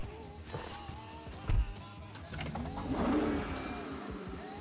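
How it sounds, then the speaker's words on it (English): Artificial engine start sound of the EVX electric muscle car in a video game: a brief thump followed by a rising, revving mid-pitched engine tone that swells and then eases off. "has a fake sound, like when you start the car for some reason"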